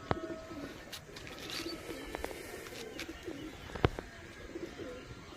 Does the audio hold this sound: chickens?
no